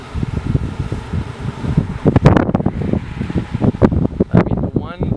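Wind blowing along an open road rumbles and buffets the microphone under a person talking close by, with gusts rising and falling throughout.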